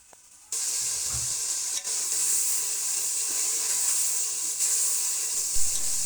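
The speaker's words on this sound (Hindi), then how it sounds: "तो बस ये मैं इसमें शामिल कर दूँगी और इसकी भी ना अच्छे से भुनाई कर लेंगे।" Boneless chicken frying in a pan with garlic-ginger-chili paste: after a brief quiet start, a loud, steady hiss of sizzling oil sets in and holds, with a few faint knocks underneath.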